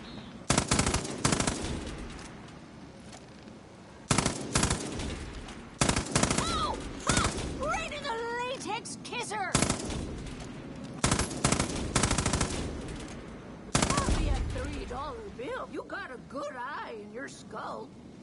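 Bursts of gunfire in the video game Far Cry New Dawn, loud and repeated in several sharp volleys, mixed with in-game speech between the shots.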